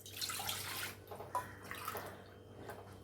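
About one and a half glasses of water pour steadily into a pot of arai keerai greens set on a lit stove, giving a continuous close splashing rush with no talk.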